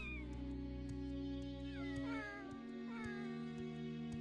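Young cats in the Morrowind video game give three or four drawn-out meows at intervals over a steady humming background drone.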